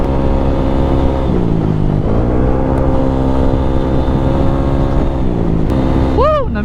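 A Yamaha Aerox 215cc scooter and a Husqvarna Svartpilen 401 motorcycle race on a road, one engine droning loud and close with steady revs, shifting pitch near the middle and rising sharply at the end.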